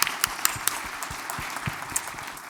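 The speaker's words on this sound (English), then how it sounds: "maybe let's just do an applause for" Audience applause at a kindness summit livestream, sparse and fairly faint scattered clapping with a few sharper individual claps.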